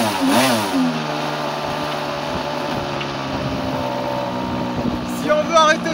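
A two-stroke model airplane engine runs continuously with a loud, buzzing whine and small wavering pitch changes, close to the listener. A brief rise in pitch comes near the end.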